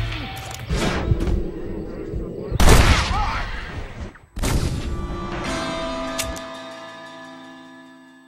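Gunfire in the Western video game Red Dead Redemption: a few sharp, loud blasts with ringing tails and echo, separated by quieter stretches with voices talking between them.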